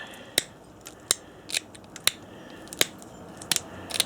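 A hand-held flaker presses flakes off the edge of a knapped stone Snyders point, giving sharp, close snaps and clicks, about eight of them spaced irregularly over a quiet background.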